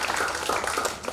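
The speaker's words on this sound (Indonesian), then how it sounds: "Jadi saya rasa teman-teman tepuk tangan buat We Plus." An audience claps at an indoor talk show on digital leadership, a dense, steady patter of many hands close by for about a second.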